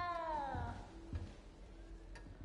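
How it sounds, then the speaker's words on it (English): A frightened little cat in the video game Hogwarts Legacy gives one drawn-out meow with a falling pitch at the start, faint against a low ambient game background. "You don't need to be frightened, little cat."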